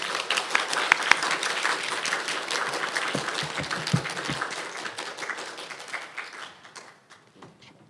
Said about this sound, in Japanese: オンサイトの方は実際拍手をお願いします。